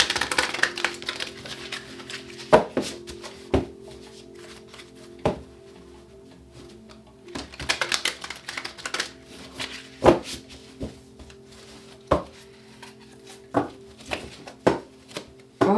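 A large deck of tarot cards is shuffled close up in irregular bursts of riffling and tapping, with sharp knocks as the cards are squared, separated by short quiet gaps.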